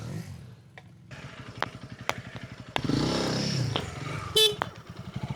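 Short horn toots from a motorcycle during a dualsport adventure rally, with a couple of brief sharp blasts over the idling engine's rhythmic putter and occasional clattering.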